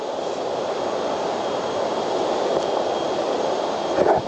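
Tibumana Waterfall in Bali roars as a steady broadband rush of falling water, constant and fairly loud throughout with no pauses.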